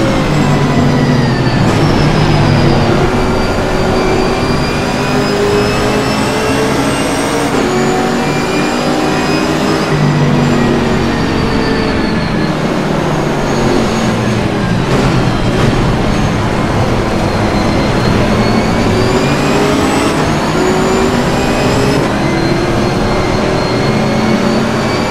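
A Chevrolet Camaro ZL1 race engine in Assetto Corsa Competizione, heard from the cockpit on a GP circuit. It drones loud and steady for the whole clip, its pitch climbing and falling with each run through the gears.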